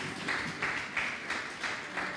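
A church congregation claps together in a steady, rhythmic beat, with about six even bursts of applause that sound moderately distant and fill the room.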